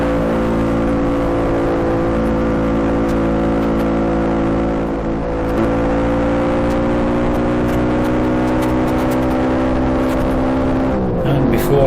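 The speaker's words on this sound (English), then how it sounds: "The Bantam's still running a new barrel and piston in, so let's not thrash it too much up here." A BSA Bantam motorcycle with a newly fitted barrel and piston climbs a hill, its two-stroke engine droning loud and steady at close range, pitch rising gradually before easing near the end.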